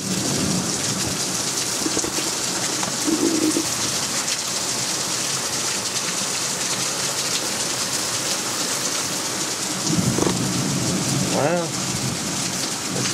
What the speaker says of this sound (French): Ça se calme un peu au niveau des pluies.